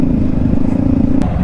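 Motorcycles on an off-road stretch of a large weekend group ride give a brief, close, steady engine drone with a rough, rumbling low end and no speech.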